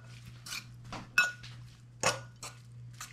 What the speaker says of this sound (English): Stir.